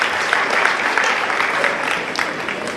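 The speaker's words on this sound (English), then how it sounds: "You can clap. There is no tax on clapping." An audience at a district-level science quiz claps steadily, a dense wash of applause from many hands that stays even and fairly loud throughout.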